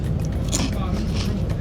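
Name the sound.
crunching crinkle-cut Brazilian Cheetos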